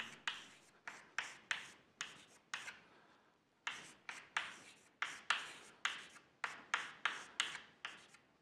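Writing strokes on a board during a university lecture on optimization and game theory: a close, steady series of short, scratchy strokes in quick bursts, with one brief pause midway and no talking.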